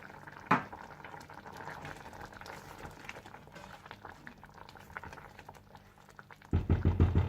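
Aloo bukhara plum chutney simmers and thickens in a pot, a soft, continuous bubbling and popping with one sharp clink early and a louder burst of bubbling at the very end.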